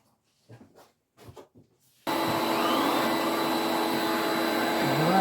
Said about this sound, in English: vacuum on.